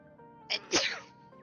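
A single sharp sneeze, close and sudden, with a short intake followed by a burst, set against a faint steady background hum.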